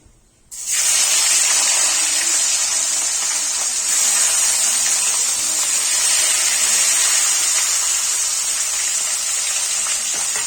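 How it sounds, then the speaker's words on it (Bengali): Potatoes and pui (Malabar spinach) stalks dropped into hot fish-frying oil, bursting into a loud, steady hiss that holds without a break after a brief quiet start. "মাছ ভাজার তেলেই আলু পুইরাটাগুলো ভেজে নেব"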